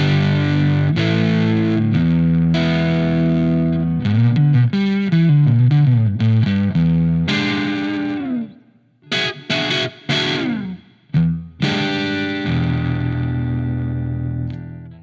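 Electric guitar run through a Brazilian-made fuzz pedal set at half gain, loud distorted chords and riffs with sustained notes, a choppy stop-start stretch of short bursts midway, then held chords returning.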